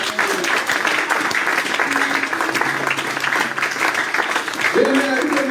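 A congregation applauds in a French church during worship, steady clapping and crowd noise filling the space while a voice speaks over it, with brief sung or toned notes near the end.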